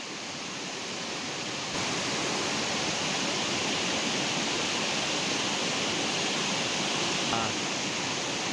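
Forceful stream water rushing loudly and continuously, a dense broadband roar that swells slightly after the first couple of seconds, with no voices heard.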